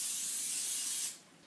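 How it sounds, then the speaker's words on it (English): Cooking spray hisses from an aerosol can onto 8-inch cake pans for tie-dye cake, one continuous close spray of about a second that cuts off abruptly, leaving quiet room tone. "you're going to spray 2 8-inch pie pans, or cake pans, whatever you want to call them, with cooking spray"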